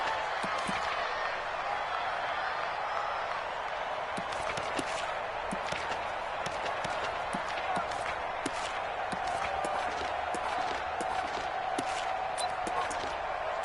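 A stadium crowd roars in a PS4 American football video game, a constant wash of cheering with scattered sharp thuds and claps rising through it, heard at a moderate distance.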